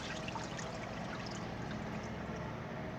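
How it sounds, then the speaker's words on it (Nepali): Water poured into a bowl while making lemon pickle: a steady, close trickling pour that runs unbroken for about three seconds at moderate volume. "अब यो पानी चाहिँ अहिले हाल्दिने"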